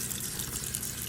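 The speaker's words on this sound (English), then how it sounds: "So what we do is we give it a quick rinse." Tap water pouring steadily into a dog's water bowl during a quick rinse, a short continuous splashing gush heard close up with no talking.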